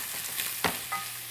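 Leeks sizzle and fry in a skillet, a steady close hiss with a soft stir or scrape breaking through now and then.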